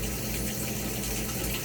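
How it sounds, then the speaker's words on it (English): Water gushes steadily into the drum of a washing machine running its clean washer cycle, a loud, even rushing hiss that carries on without a break. "It is filling water in the drum"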